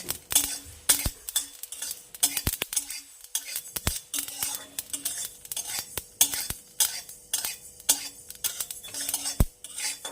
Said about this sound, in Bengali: আর এভাবে ক্রমাগত আমি এটাকে নাড়িয়ে যাব। গ্যাস অফ করে দিয়েছি, ওই কড়াইয়ের গরমে এটা ভাজা হতে থাকছে।